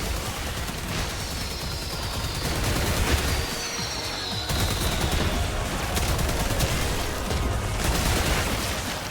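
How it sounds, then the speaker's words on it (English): Rapid pistol gunfire rattles continuously in the Warframe video game, dense overlapping shots forming a near-constant crackling barrage with a short lull partway through, loud and close. "I can just take these guys down with these, you know, angry little pistols."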